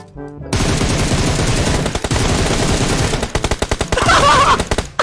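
Loud automatic gunfire in PUBG Mobile, opening after a short quiet moment into a dense, continuous burst, then breaking into distinct rapid shots near the end, up close and without voices.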